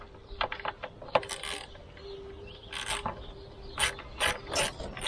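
A ratchet with a 5.5mm socket works on the throttle bolt of a Honda intake, up close, with quick clicking pawl bursts separated by short pauses.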